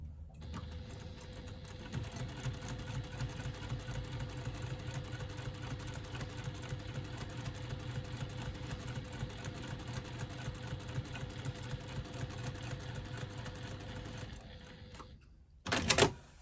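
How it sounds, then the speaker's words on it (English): A sewing machine stitches through the card slot of a wristlet bag, a soft, steady, fast mechanical whir with a rapid needle rhythm running for about fourteen seconds before stopping, followed by a brief louder handling noise. "I'm only stitching through the top of the card slot"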